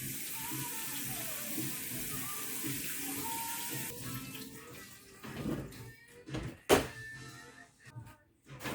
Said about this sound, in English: Now we just have to wash the watercress.